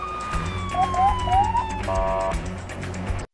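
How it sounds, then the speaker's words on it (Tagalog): A police car siren wails with rising and falling sweeps, then switches to a steady tone over the rumble of a vehicle engine and road noise, before cutting off abruptly. "Matapos marinig ang sirena ng sasakyan ng pulis"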